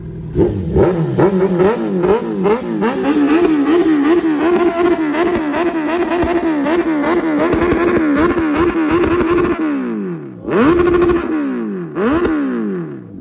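Kawasaki Z900 motorcycle exhaust revving hard and close, a sustained rising roar with rapid popping backfires, then the engine drops off and two sharp blips of throttle follow.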